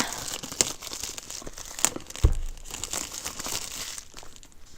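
Plastic wrap is peeled off an Anker Roav C1 dash cam box, giving close crinkling and crackling with a few sharp tearing snaps.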